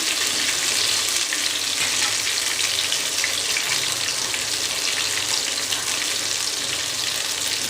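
Mushrooms deep frying in hot oil make a loud, dense, continuous bubbling sizzle that stays even and close throughout, with no talking.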